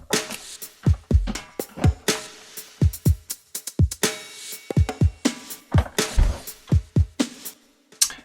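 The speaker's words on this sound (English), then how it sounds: "let's check out the drums" Dubstep-style drum loop from a music track: punchy kicks and sharp snares in a syncopated half-time groove, loud and dry, each hit ringing briefly before silence; no vocals or talking.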